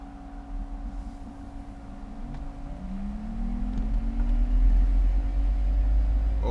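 An electric-converted E65 BMW 7 Series pulling up a hill, a low smooth drive hum with a faint rising motor whine that grows louder as the car climbs.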